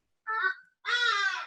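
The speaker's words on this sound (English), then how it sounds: "That's one of the South African birds that make a lot of noise" A South African bird gives two loud, harsh crow-like caws close by, a shorter call followed by a longer, raspier one, with no talk over them.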